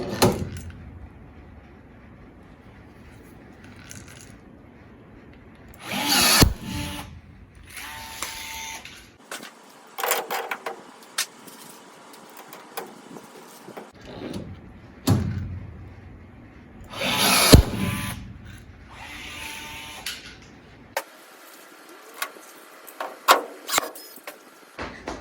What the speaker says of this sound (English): then I drill that to size 30